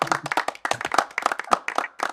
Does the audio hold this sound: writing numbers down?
no